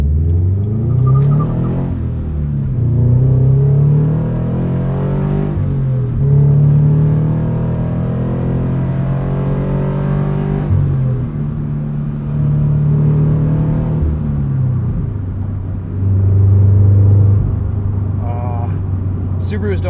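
A Subaru BRZ engine with an unequal length header revs repeatedly, rising and falling in loud pulls from inside the car, with people talking over it.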